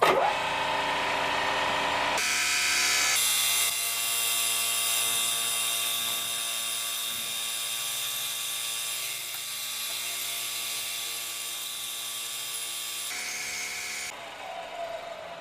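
A milling machine cuts a water passage into an AM6 moped cylinder for a Derbi, producing a loud, sustained whine with steady tonal harmonics that starts abruptly and cuts off near the end.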